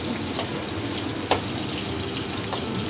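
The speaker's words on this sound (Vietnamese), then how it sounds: "Rồi mình chiên nó vàng lên, nó nhả dầu lên hết à" Vegetarian mock meat for pho fries in hot oil until golden, giving a steady, close, crackling sizzle with one brief sharper pop.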